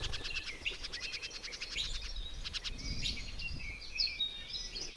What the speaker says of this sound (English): Three yellow-billed oxpeckers.